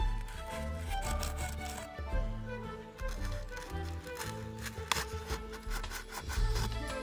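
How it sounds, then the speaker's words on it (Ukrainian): A sharp object pokes and scrapes holes into a piece of polystyrene foam, giving close, squeaky rubbing and scratching sounds in uneven bursts with brief pauses. "Далі беремо шматочок пінопласту і чимось гострим робимо в ньому отвори"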